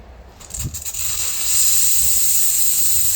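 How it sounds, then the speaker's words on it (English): Steam vents from a Cimbali M20 Junior espresso machine, starting with a few sputtering bursts and then settling into a loud, steady hiss that continues to the end. "Now let's release some heat or some steam and see if it comes back on again."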